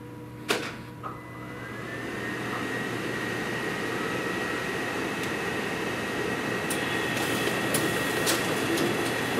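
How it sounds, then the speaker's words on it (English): RISO duplicator raising its paper tray of envelopes and making a master, a steady mechanical whir and hum with a few clicks and knocks, moderately close, no talking. "What the machine is doing right now is it's raising the paper tray so the envelopes are in the position to be fed, and it's making the master."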